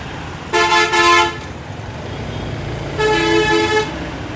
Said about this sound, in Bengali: তাও মনে হয় যেন রাস্তায় গাড়ির জ্যাম